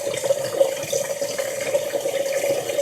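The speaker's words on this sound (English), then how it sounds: "So again, I'm filling this up. This is a good warm temperature water." Warm water runs from a tap into a container for cleaning makeup brushes, a steady moderate flow with a faint rising filling tone and no speech.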